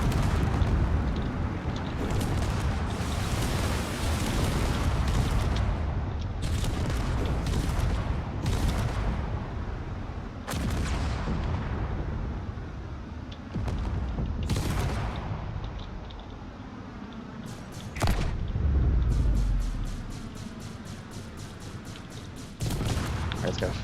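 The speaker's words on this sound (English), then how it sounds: "He's gonna fire away with everything he's got. And that railgun does a lot of damage." Sci-fi drone weapons, including a heavy-hitting railgun, fire in a space combat video game: dense rolling barrages of blasts and rapid gunfire bursts, loud and continuous, with someone commentating over much of it.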